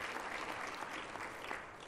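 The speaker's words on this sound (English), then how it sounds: "Let us give them a round of applause" Steady applause from a conference audience at an official opening ceremony in Kigali, a dense even wash of clapping that holds at a constant level throughout with no voices on top.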